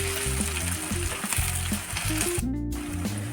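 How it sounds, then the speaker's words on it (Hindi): Onions fry in a pan with a close, steady sizzle that holds through the clip. A low hum runs underneath, and the sizzle drops out briefly for a moment. "प्याज को अभी हमें थोड़ा सा और भूनना है।"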